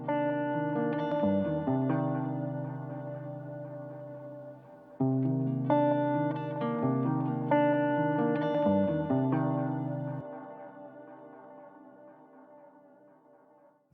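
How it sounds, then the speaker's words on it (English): An electric pop guitar pattern loops through modulation and a touch of distortion, sustained chords ringing with a wavering, chorus-like shimmer, restarting once midway and then slowly decaying, with no voices. "So this is the electric guitar pop pattern radio one"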